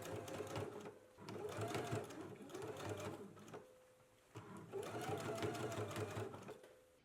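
A sewing machine bastes a collar at a 5/8 inch seam allowance, running in steady rhythmic stitching bursts with brief pauses between runs, close and continuous.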